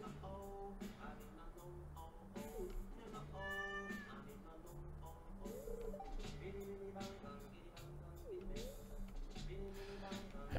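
A pet cat meows several times in a Stardew Valley farm game, short game sound effects over a looping music bed while a person talks throughout.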